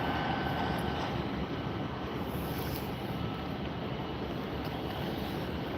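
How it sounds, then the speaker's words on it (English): An American Airlines airliner in AirCal retro livery takes off from Tampa International Airport, a steady, distant jet roar mixed with wind buffeting the microphone. "American Airlines AirCal retro livery taking off here today from"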